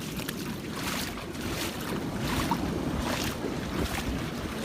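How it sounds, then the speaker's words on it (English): Gulf of Mexico surf breaking on a beach, a steady wash of waves rolling in and out, with gusts of wind buffeting the microphone and no voices. "I can hear the waves crashing."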